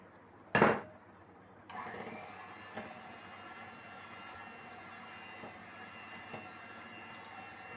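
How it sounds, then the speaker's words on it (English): An electric beater whisking eggless thandai cake batter with condensed milk, starting after a brief loud clatter and settling into a steady, even high-pitched motor whir with faint periodic scraping ticks. "Now we will whisk it with the electric beater."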